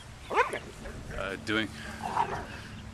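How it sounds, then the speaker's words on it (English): Dogs yelp, whimper and bark in a brief scuffle near a pull-up bar, a few sharp cries and snarls scattered over several seconds, with someone speaking in between. "Sorry about that dog fight."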